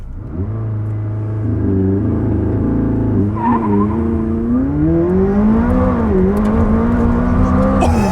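A 2019 McLaren 600LT coupe with a twin-turbo 3.8-liter V8 launches under launch control, the engine holding a loud steady rev before surging and climbing through the gears with rising, shifting engine tones, close and powerful.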